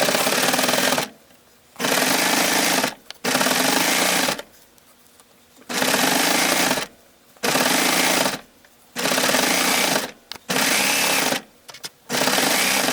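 A coverstitch machine sews a seam on knit fabric in loud, steady runs of rapid stitching, stopping and restarting about nine times with short quiet gaps between bursts.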